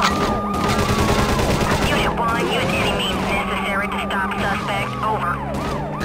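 Shots in a police chase video game, rapid bursts of fire mixed into a loud, busy scene with wailing police sirens sweeping up and down throughout and continuous engine roar.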